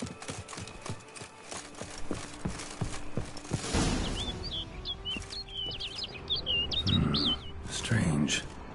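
A bird chirps in a rapid run of short high tweets in The Witcher 3: Blood and Wine, over clopping hooves and footsteps, with a low rumbling bed beneath.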